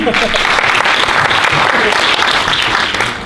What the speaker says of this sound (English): Everybody clap for him.